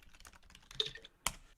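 Several quick clicks of typing on a computer keyboard, close and fairly loud, ending in a sharper keystroke.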